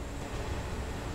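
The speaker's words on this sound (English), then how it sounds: "Oh, another train." A train in Train Simulator 2017 on the Scottish East Coast Main Line from Edinburgh to Dundee rumbles past, a steady broadband low roar of wheels and wagons at constant loudness throughout.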